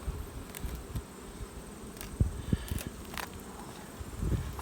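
Honey bees buzzing around an open hive during a fall nectar flow, a close, steady drone with soft rustling and light handling knocks, no voices.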